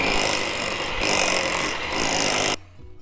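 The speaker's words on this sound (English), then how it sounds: "we're gonna mix this until it gets nice and creamy" Electric mixer beating room-temperature cream cheese for a no-bake cheesecake, a loud steady motorized whir with slight surges that stops abruptly near the end, leaving a quiet tail.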